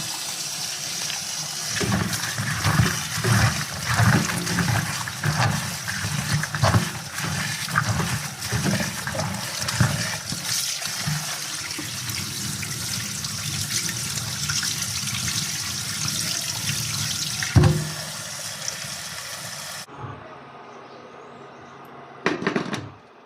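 Food is rinsed under a running kitchen tap, a steady gushing and splashing stream with handling bursts, which stops abruptly near the end, leaving a quiet room tone.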